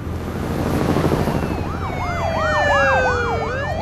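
Police car sirens in The Walking Dead video game wail in a loud, repeating rise-and-fall sweep that grows stronger over a steady road and engine rumble, with several sirens overlapping.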